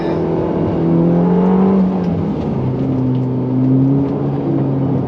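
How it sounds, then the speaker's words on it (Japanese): A Ferrari Roma V8 engine revs with a low, throaty exhaust note, pitch rising and falling through a couple of climbs, loud and steady with no talking. "エキゾーストノートもミッドシップフェラーリよりもワントーン音が低いんですけど"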